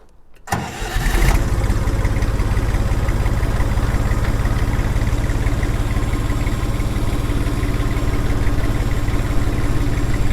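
A Jinma 3244 HS tractor engine starts with a short cranking burst, then settles into a loud, steady diesel idle with an even low throb that runs close and uninterrupted to the end.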